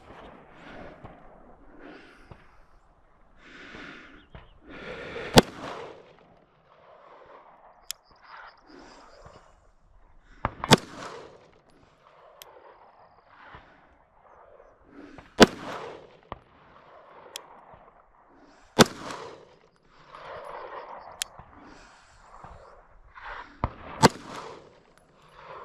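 Glock 17 Gen 6 pistol firing at an outdoor range, sharp loud gunshots spaced a few seconds apart, about seven in all, each a sudden crack over a background of wind and muffled movement.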